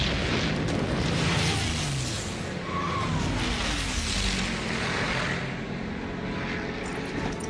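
P-51 tank buster aircraft attack in a wartime film battle scene: dense, continuous roaring rumble of explosions and engine noise, loud and sustained throughout with no clear gaps.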